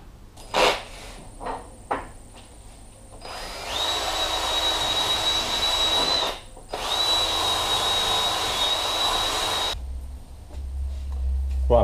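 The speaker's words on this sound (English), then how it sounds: "just again agitate it with a steel wire wheel" A steel wire wheel spun by a drill scrubs an AP Racing four-pot brake caliper, heard as a few short taps and clatters followed by two long, loud, steady whirring runs with a brief pause between them.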